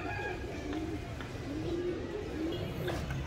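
Pigeons coo softly in repeated low, rolling calls, with a person talking quietly over them and steady background noise.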